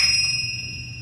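A single bright bell rings clearly, its pure tones lingering and slowly fading, as part of a musical instrument demonstration on a children's record.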